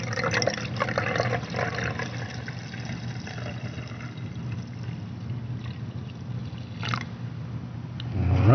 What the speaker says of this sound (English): so here I'm adding distilled water.